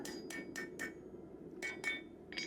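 Hammer striking hot metal while a blacksmith forges and lightly flattens bottle openers, sharp ringing taps in two quick bursts: four evenly spaced blows, a short pause, then three more, close and fairly quiet.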